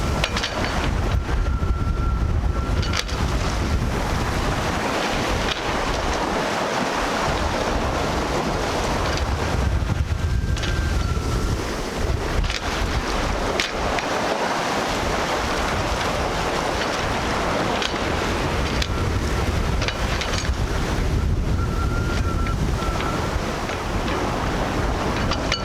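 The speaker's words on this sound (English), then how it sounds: "the sea has been building all day" Rough sea with wind buffeting a small Contessa 26 sailboat on a solo Atlantic crossing, a constant loud roar of wind over the microphone and rushing waves, unbroken throughout with no voices.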